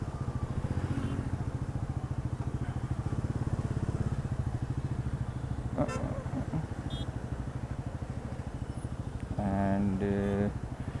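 A Bajaj Pulsar NS400Z motorcycle engine hums steadily while riding in heavy evening traffic, with someone talking over the continuous drone and car horns honking briefly nearby near the middle and end.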